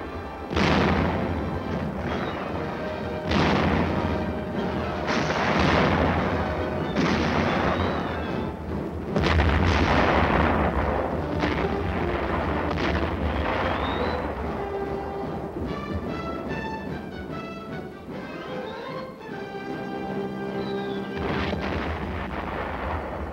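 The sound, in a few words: tank gunfire in Korean War combat footage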